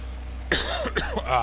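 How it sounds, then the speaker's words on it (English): A single person coughs a few times in a quick, raspy burst, close to the microphone. "I apologize for the coughing"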